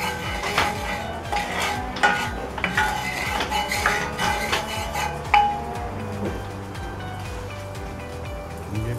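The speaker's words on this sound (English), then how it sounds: "I'm just going to put a little bit of oil in the bottom of the skillet. Just move it around" Oil swirled around the bottom of a 10 inch cast iron skillet before sausage and bacon go in, with repeated metallic scrapes, clinks and knocks of pan and utensil, fairly close and busy, with no speech.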